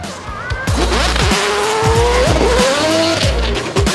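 A loud sports car engine revs hard nearby, its exhaust rising to a sharp, screaming whine with squealing tones and rapid shifts in pitch.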